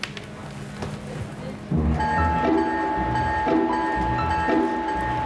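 Small electric model trains running around a Christmas village layout at a hobby club exhibition, a steady mechanical rumble with a sustained whistle-like tone and rhythmic clicks, under people talking nearby.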